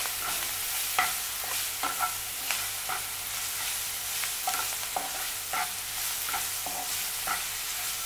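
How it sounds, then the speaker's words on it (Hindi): Onion and ginger-garlic paste being stir-fried in hot oil, a steady close sizzle broken by regular scraping stirs of a spoon against the pan roughly once a second, with no talking. "और अदरक लहसुन की पेस्ट और प्याज को अच्छे से मिक्स कीजिए।"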